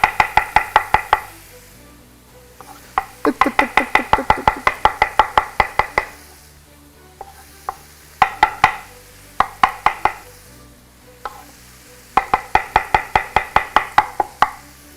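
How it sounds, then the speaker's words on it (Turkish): Knife chopping mushrooms on a board, close and clear, coming in rapid bursts of strokes separated by short pauses and a few slower single cuts, with no talk. "biz aşçılar için mantar doğramaktır"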